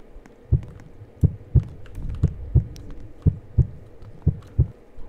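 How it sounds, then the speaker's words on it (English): A heartbeat thumps from under the ice in a video game, a loud, close, low double pulse repeating steadily about every second. "I hear like heart beating from here, from the ice."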